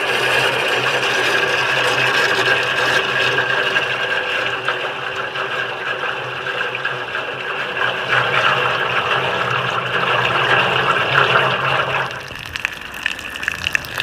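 Water gushes steadily into a test tank for a 1956 Johnson 10 HP outboard, a continuous loud rushing fill with a mechanical hum beneath, easing off near the end.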